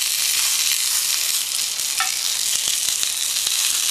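Food sizzles steadily and loudly in a pan set on a homemade tin-can survival stove, a dense continuous hiss with a few light stirring clicks near the end and no voices.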